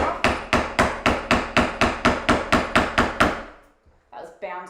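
A chisel splits a corner off a three-dimensional woodcarving, struck about thirteen times in a steady, evenly spaced rhythm of sharp, close, loud knocks. A brief pause follows, then a few soft shuffling sounds.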